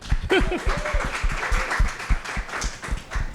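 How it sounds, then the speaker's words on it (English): An audience at a panel discussion on diversity, equity and inclusion gives a round of dense, moderately loud applause that carries on steadily throughout. "We can give a round of applause for that."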